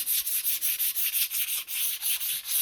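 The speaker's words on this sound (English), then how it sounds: "here's some 400 grit sandpaper, and I'll just very lightly" Wood surface being lightly sanded by hand with 400 grit sandpaper while finishing a footstool, a steady series of soft rhythmic rubbing strokes, close and alone with no talking.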